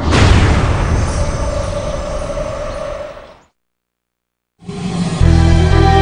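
A big explosion sound effect, a loud roaring blast that rumbles and decays for about three seconds, cuts to total silence, then returns with another heavy boom.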